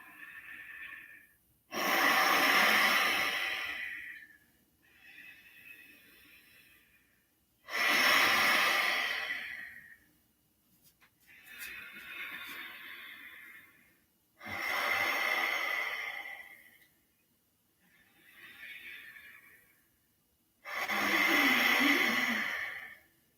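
Deep qigong breathing during a spleen and stomach exercise: loud, forceful breaths alternate with softer ones in a steady cycle, about four strong pushes spaced several seconds apart, close and without talk.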